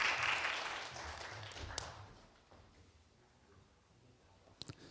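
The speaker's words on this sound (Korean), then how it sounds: "큰 박수 부탁드리겠습니다" An audience at a Korean academic symposium claps to welcome a session chair, brief and moderately distant, tapering off within a couple of seconds into a quiet room.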